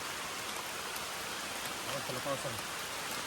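Heavy rain pours steadily outdoors near trees on a dark evening, a constant close hiss of drops on surfaces with a few faint voice-like sounds partway through.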